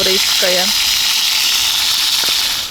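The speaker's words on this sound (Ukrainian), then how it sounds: "мені потрібна кришка, бо воно все ось ляпає, весь вітрозахист, виходить, в тому жиру" Fat spatters and sizzles steadily as food fries in an uncovered pan outdoors beside the Desna river, a loud continuous hiss with a few short voice sounds at the start.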